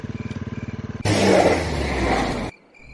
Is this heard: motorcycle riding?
yes